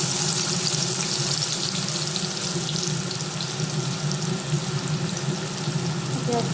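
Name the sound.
chopped onions frying in oil with nigella seeds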